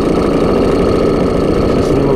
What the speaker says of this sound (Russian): мотор еще новый, не очень хорошо долго так тарахтит